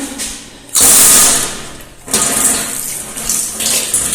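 Water gushes loudly from a kitchen tap in two bursts, a hissing rush that cuts off briefly midway and then starts again, with no talking.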